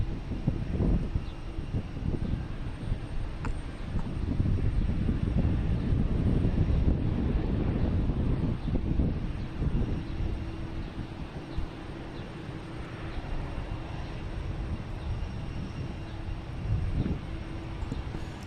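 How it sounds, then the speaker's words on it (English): Japan Airlines jet preparing to depart at Boston Logan Airport, a broad rumbling engine roar with a faint steady tone, moderately loud and continuous with some wind buffeting, no talk. "Japan Airlines getting ready to head out of here."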